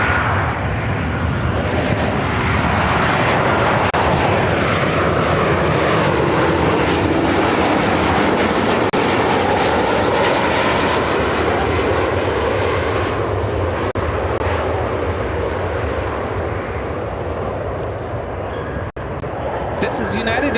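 A United Airlines Boeing 737-800 from Houston lands at Chicago O'Hare, its jet roar loud and steady for the whole stretch before easing slightly near the end, with talk beneath it.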